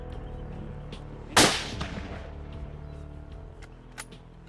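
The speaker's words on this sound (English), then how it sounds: "Oh, Jimmy, shoot it in the body again." A single loud rifle shot rings out while hunting black bull, a sharp crack followed by a decaying echo, with faint outdoor background afterward and a small knock near the end.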